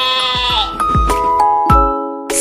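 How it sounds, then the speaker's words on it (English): A goat bleats several times in a row, loud and close, with wavering cries and breaks between calls, no talk. "First one is goat."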